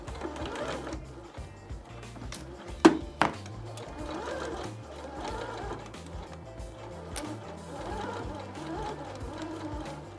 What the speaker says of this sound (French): on va réaliser une couture sur tout le tour, donc en laissant l'ouverture en haut à 1 cm du bord